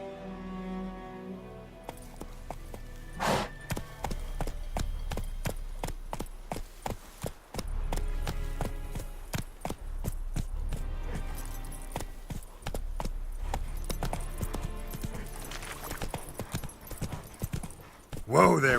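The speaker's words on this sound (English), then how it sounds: "Whoa there, Roach." Horse hooves clip-clopping in The Witcher 3 video game, a steady stream of hoofbeats over ambient music and game sounds.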